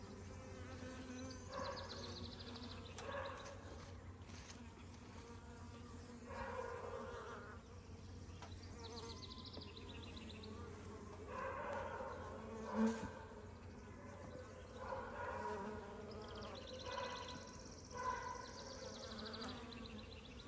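Swarm of honey bees buzzing steadily around a nuc box being installed into a hive, a continuous close drone that swells and fades with a few louder passes near the microphone.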